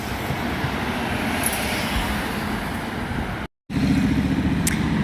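A bus in Cheltenham or Gloucester rolling along the road, a steady low engine rumble with road noise, close and loud, briefly cut by a short gap before resuming heavier.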